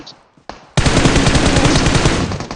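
Automatic gunfire in PUBG Mobile: a short burst, a pause, then a loud sustained stream of rapid shots, close and dominant, with no talk over it.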